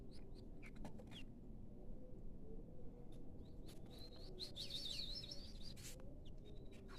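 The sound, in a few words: bird song, kutilang (sooty-headed bulbul) or murai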